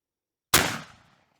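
A single sharp gunshot from an M4-style rifle, fired at a Shotstop Duritium GT2 Level 3+ armor plate, cracks once after silence and decays quickly.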